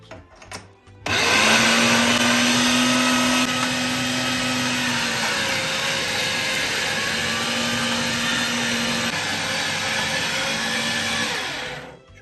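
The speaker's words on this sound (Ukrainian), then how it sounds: "Ставимо дрібнішу сіточку і перемелюємо шлуночки." A meat grinder with a fine plate minces chicken gizzards for sausage, its motor starting abruptly and then whining loudly and steadily, with its pitch dipping slightly as the tough meat feeds through, then cutting off at the end.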